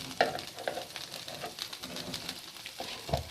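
Beef undercut steak sizzling in a hot pan, a continuous soft crackle with a few sharper pops and brief turning sounds, fairly quiet and with no talking.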